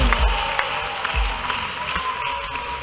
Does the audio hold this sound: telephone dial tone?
no